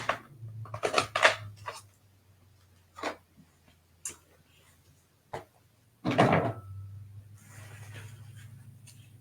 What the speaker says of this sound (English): I'm actually probably going to trim that up with some scissors here in a minute